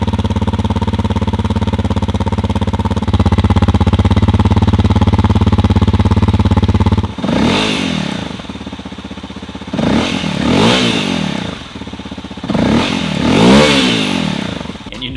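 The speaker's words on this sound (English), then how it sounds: "A lot of people love the sound of this bike" A Honda CRF250L dirt bike idles with a buzzy steady drone, then its exhaust barks through three sharp revs that rise and fall, loud and close.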